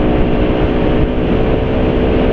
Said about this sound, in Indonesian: suara mesin jadi lebih halus